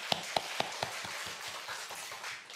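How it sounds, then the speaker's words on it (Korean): Congregation clapping during a Korean church worship service, a few sharp claps at first settling into a steady rhythmic applause that carries through, fairly close and moderately loud. "하나님께 영광의 박수 제가 올려드립니다."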